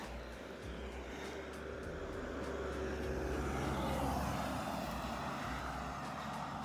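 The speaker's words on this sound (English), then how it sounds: "I think I hear a car, in fact." A car approaches on a road during an early-morning uphill walk on the Camino, a faint, steady low engine rumble that swells slowly and lingers in the distance.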